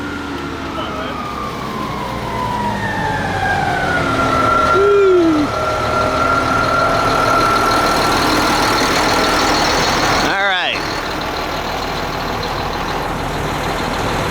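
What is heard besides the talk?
concrete trucks and pump truck engines running at job site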